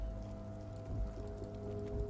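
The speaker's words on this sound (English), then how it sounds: "Will the weather always be rainy on day 2?" Steady rain patters in Disco Elysium under a low hum and sustained tones, even and continuous, with no talking.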